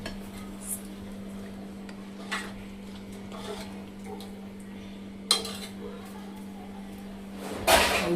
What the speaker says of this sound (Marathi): ह्याला झाकण ठेवून आपल्याला थोडा वेळ 5 मिनिटं उकळायला द्यायचं आहे.